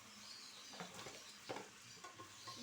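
Shrimp hit a hot pan and fry with a soft, steady sizzle, punctuated by a few light stirring scrapes, quiet and close with no talking.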